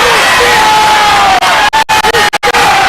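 A loud high school basketball crowd in a gym erupts in a sustained roar of shouting and jeering after an offensive foul is called, with broken, choppy dropouts near the end.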